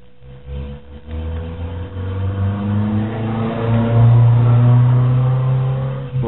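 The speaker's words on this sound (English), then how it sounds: "A little tuner just went by." A small tuned car accelerates past, its engine note rising and swelling to a loud peak before easing off, a steady mid-pitched drone with climbing harmonics and no talking.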